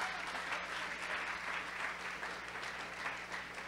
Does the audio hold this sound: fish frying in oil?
no